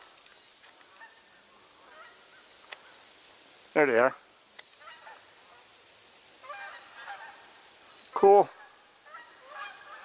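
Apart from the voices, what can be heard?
geese honking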